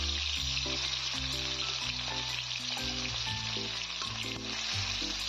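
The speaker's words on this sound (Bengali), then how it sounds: "একে একে মাছগুলো এবার কড়াইয়ে দিতে থাকি" Katla fish frying in hot oil in a wok, a steady close sizzle that carries on throughout beneath background music.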